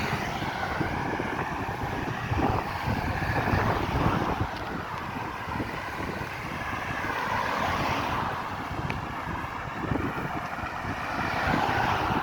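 Outdoor ambience at Grantley Adams International Airport in Barbados, with a steady broadband rumble of wind buffeting the microphone and the distant drone of aircraft engines, continuous and moderately loud.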